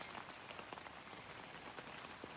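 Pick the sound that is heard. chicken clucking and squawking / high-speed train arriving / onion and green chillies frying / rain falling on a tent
rain falling on a tent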